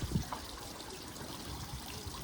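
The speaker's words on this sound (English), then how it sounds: "Oh, what beautiful water features." Water trickling and splashing steadily in decorative water features at a large garden center nursery, a soft continuous outdoor babble with no voice over it.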